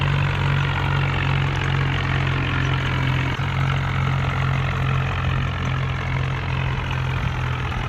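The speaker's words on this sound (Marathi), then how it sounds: "सध्याला दुसऱ्या गेअरवर ट्रॅक्टर चालू आहे बघा. हाय सेकंडवर चालू आहे." A tractor towing a trolley runs steadily in high second gear, its engine giving a loud, constant low drone with no gear change or pause, close by and without voices.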